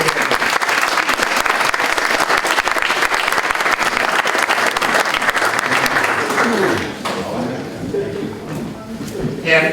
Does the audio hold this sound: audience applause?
yes